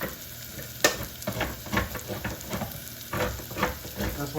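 Pizza sauce containing sugar hits a hot pan and sizzles, with bursts of crackling frying and stirring scrapes that rise and fall irregularly at close range, no talk.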